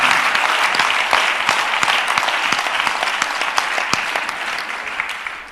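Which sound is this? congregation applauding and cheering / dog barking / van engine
congregation applauding and cheering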